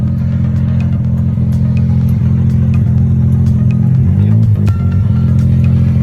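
Mazda RX-7 FD3S arriving on a highway: a continuous low engine hum and tire roar near and steady, shifting tone briefly near the end as the car slows.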